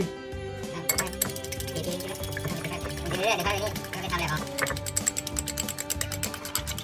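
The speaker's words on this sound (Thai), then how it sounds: "ตีไข่" Rapid clinking and tapping of eggs being whisked in a bowl for an omelette continues steadily under background music.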